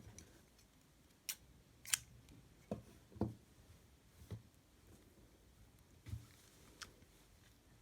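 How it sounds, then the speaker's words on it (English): Scissors snip through crochet yarn in a series of short, crisp, close-up cuts spaced irregularly in a quiet room, with no talking. "then you are going to cut your yarn"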